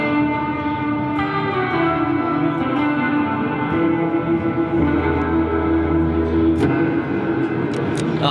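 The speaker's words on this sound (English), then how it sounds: "There's also a cool plate reverb setting on here for some of that really nice, long, ambient, spacey kind of sounding stuff." An electric guitar plays through a Fender pedal on its plate reverb setting, sustained chords swelling into long, ambient, spacey washes with a slightly distorted edge, played alone and fairly loud.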